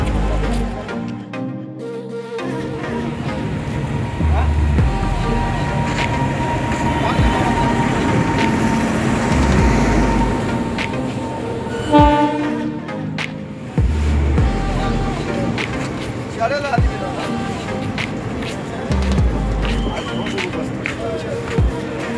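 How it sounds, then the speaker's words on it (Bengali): A Howrah–Dhanbad Black Diamond local passenger train rumbles and screeches at a station platform, with horn blasts, clattering wheels and people talking nearby throughout. "ট্রেন চলে এসছে"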